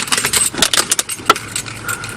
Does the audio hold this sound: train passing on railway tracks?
no